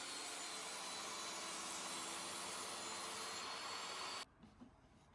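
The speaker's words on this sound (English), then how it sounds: "I'm just ripping this board down" A table saw rips a wooden board with a loud, steady whine for about four seconds, then cuts off abruptly, leaving only faint room noise and a few small knocks.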